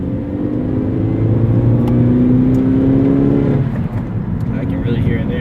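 A Mazda car engine revving while being driven, a loud steady droning hum that shifts pitch partway through as the throttle changes, with someone talking over it.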